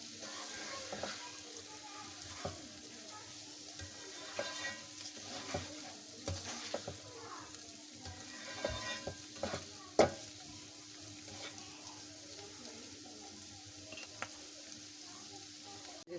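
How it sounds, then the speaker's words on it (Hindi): Chana dal roasting in ghee in a pan, with a steady close sizzle broken by repeated scraping and stirring clatters throughout, and no talking. "दाल हमारे रेडी है और इसने देखिए घी भी छोड़ना शुरू कर दिया, भून गई है अच्छे से"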